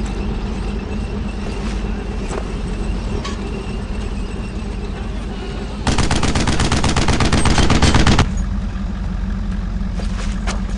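Heavy machine gun fire in Brothers In Arms: Road To Hill 30 rattles in a dense, rapid, loud burst lasting about two seconds. Fainter distant gunfire and battlefield rumble run before and after it.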